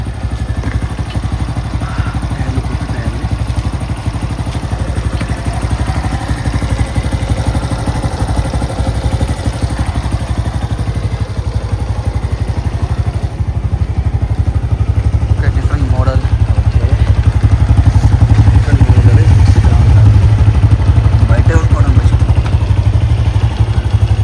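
A motorbike engine runs steadily at close range in Malaysia, a continuous low droning rumble that grows slightly louder toward the end, with people talking over it.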